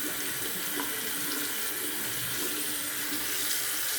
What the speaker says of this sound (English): I'm just rinsing out my bowl here from Alex.